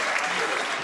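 Brief burst of studio audience applause on a late-night comedy show, dense and loud, with a voice faintly under it.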